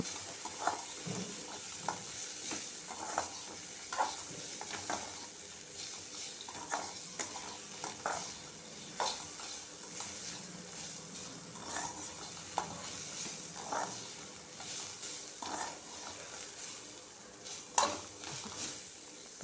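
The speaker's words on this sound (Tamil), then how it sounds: "ஒரு ரெண்டு நிமிஷம் வதக்கணும்" Ridge gourd peel is sautéed in a pan for chutney, a soft steady sizzle with repeated light scraping and stirring strokes, fairly faint and without talk.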